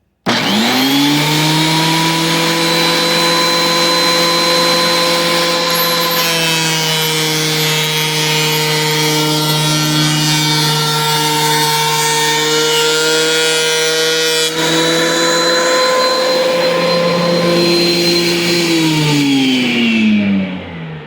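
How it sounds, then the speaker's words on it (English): A thickness planer feeds a Spanish cedar or mahogany board, a loud steady machine whine with strong harmonic tones that rise as the cut starts, hold through the pass and fall away at the end, with no talking. "I've already got my planer set up here, so I'm just going to run it through real quick."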